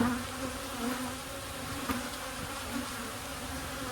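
Honeybees on a frame pulled from a boosted hive drone in a steady, dense hum, close and continuous throughout with no speech.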